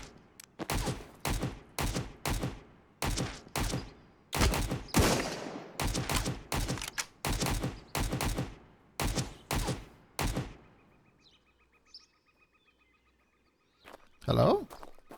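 Bursts of gunfire in the video game Road To Vostok, a dozen or more sharp close shots in irregular volleys, some rapid, then a lull with faint ambient tones before a final loud burst.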